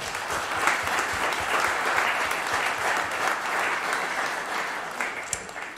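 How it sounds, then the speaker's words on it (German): An audience at an anniversary evening event claps in steady, dense applause that holds at an even level and then thins out near the end, with a few isolated claps trailing off. "das verdient einen kleinen Applaus,"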